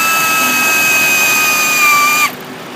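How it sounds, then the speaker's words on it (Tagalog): A Honda Accord engine with a misfire idles with a loud, steady whine and hum, then abruptly drops in pitch and level near the end. "mapapansin nyo, palyado"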